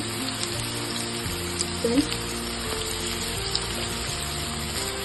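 Onion, ginger and garlic sauté in a pan for a fish masala, with a steady, moderate sizzle and a low background hum, and someone speaking over it.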